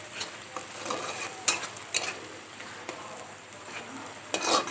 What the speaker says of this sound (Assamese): এইখিনি মই ভালদৰে ভাজি ল'ম।